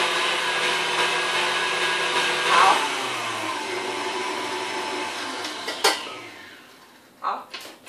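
An electric hand mixer whirs steadily as it whips chocolate sponge cake batter, a loud droning buzz that eases and shifts in pitch before stopping, followed by a few knocks and clatters of the beaters and bowl.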